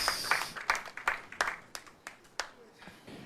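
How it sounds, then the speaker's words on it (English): Audience applause for quiz contestants at a university law challenge, heard as a short run of scattered, sharp hand claps, moderately loud at first and thinning out, with no voices over it. "A round of applause, ladies and gentlemen,"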